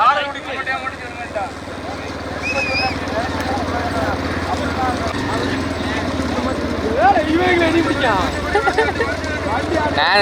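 Bulls pulling carts thunder along in a bullock cart race at Kadalkudi in Thoothukudi district, Tamil Nadu, with a rhythmic clatter of hooves and rumbling wheels under constant shouting from a crowd and excited commentary.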